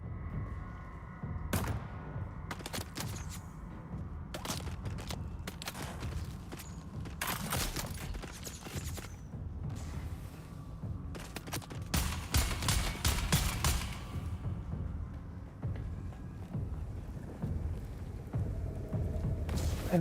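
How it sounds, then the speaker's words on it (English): Automated turret firing at enemies in Dune: Awakening, bursts of rapid gunshots crackling repeatedly in uneven clusters over a low rumbling background, moderately loud and without talk. "So my turret is just standing over there shooting them."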